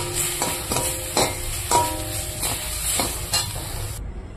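Spatula stirring fried khuria and bathua greens in a hot pan, with steady sizzling and rhythmic scraping strokes about every half second, close and clear, then cutting off abruptly at the end.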